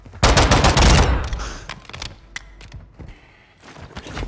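Gunfire in the video game Call of Duty DMZ: a loud burst of rapid automatic fire up close, then scattered fainter shots and thuds trailing off.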